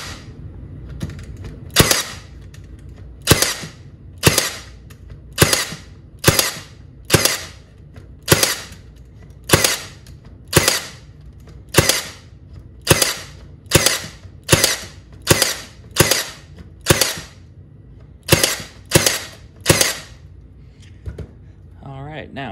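A Milwaukee Gen 2 brad nailer fires into a board in single fire mode, giving about twenty sharp, loud shots at a steady, fairly quick rhythm, with short pauses between small groups and a quiet background.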